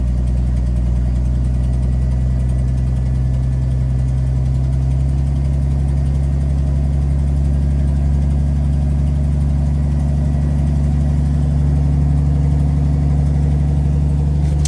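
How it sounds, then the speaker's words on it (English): A 1982 Ford F-150 with the 4.9L inline-six runs with an open exhaust manifold, a loud, steady, throaty idle with a deep low rumble held close and continuous throughout, with no talking. "The exhaust comes out right about there, so it's pretty loud, but it doesn't sound bad."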